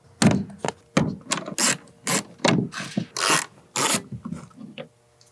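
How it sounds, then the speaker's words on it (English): A ratchet with an extension and T20 Torx bit loosening upper grab handles in a 6th-gen Ford Ranger's rear passenger area, close, loud bursts of clicking ratchet strokes in an irregular rhythm with short pauses. "grab your ratchet extension and also your T20 Torx bit in order to start removing these upper grab handles"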